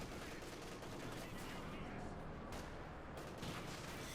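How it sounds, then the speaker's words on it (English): Sniper fire and gunfire crackle through a Company of Heroes 2 battle, Wehrmacht against Soviet forces, dense and continuous with booming combat noise throughout and faint voice underneath. "Sniper fire there, Grenadiers almost wiped out."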